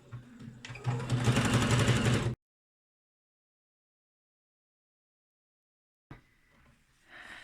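A sewing machine stitching a face mask gives a short, rapid burst of whirring stitches, then stops into silence, with a faint rustle near the end.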